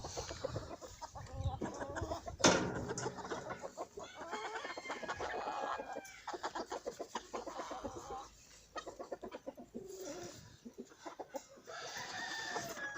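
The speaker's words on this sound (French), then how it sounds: "les petits poussins sont sortis" A Spanish hen clucks among newly hatched chicks, with repeated close clucks and faint peeps running steadily through a busy farmyard scene, including one louder burst.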